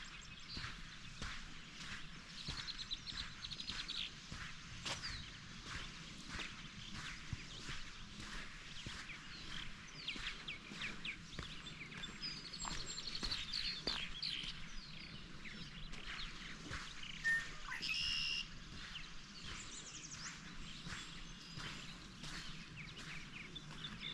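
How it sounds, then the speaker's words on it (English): Red-winged blackbirds and purple martins call around a martin habitat in a Pennsylvania state park, a steady layer of chirps and twitters at moderate distance throughout, with occasional footsteps on the path. "Red-winged blackbird on the tree, purple martins on the habitat."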